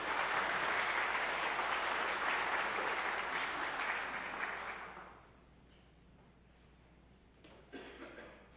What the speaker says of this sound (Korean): 나올 때 박수 이렇게 맞이 해주십시오